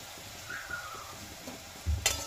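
Spices for soya biryani gravy being stirred and fried in a pan, with a soft sizzle and a scraping stir, followed by a louder clatter near the end.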